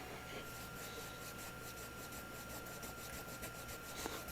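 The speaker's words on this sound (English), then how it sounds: "Going back and forth until basically all that crud comes off" A rag scrubs dirt off an NES game cartridge with quick back-and-forth strokes, a soft, faint rhythmic rubbing with no talking.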